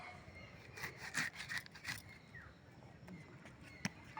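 A knife slices through a soft dragon fruit in a home kitchen, giving a few quiet, short scraping and squishing strokes close by, with faint background sounds.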